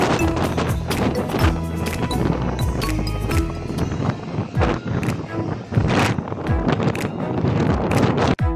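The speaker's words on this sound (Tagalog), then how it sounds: "Grabe ang lakas ng hangin." Loud, constant wind roar buffeting the microphone at Universal Studios Beijing, with rumbling gusts and occasional knocks and thumps throughout.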